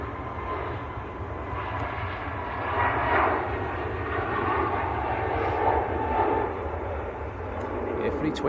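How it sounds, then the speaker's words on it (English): A Jet2 Airbus A321neo taking off at Manchester Airport for Gran Canaria makes a broad, steady engine roar. The roar rises slightly midway and carries on throughout at moderate loudness. "Jet 2 to Gran Canaria is just on the roll at the moment."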